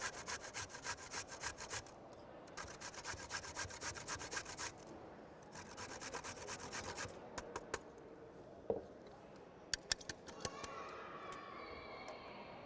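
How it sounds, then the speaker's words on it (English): A beet and a carrot are rubbed against a box grater in several rhythmic bursts of scraping strokes, close and fairly quiet, followed by a few scattered knocks and softer scrapes. "Grate the beet. Grate my carrot."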